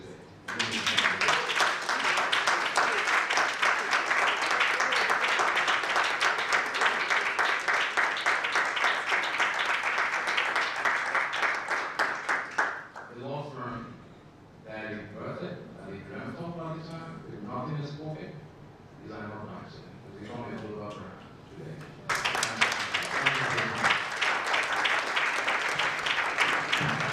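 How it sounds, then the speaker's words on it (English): Audience applause at a law business conference: a loud, dense crowd clapping for about thirteen seconds, then a quieter stretch with talk and scattered claps, then full applause again near the end. "A round of applause, ladies and gentlemen."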